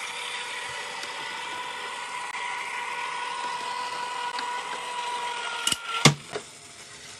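A die-cutting machine cutting craft card runs with a steady, fairly loud mechanical whir that holds for about six seconds, then ends in a few sharp clunks and knocks.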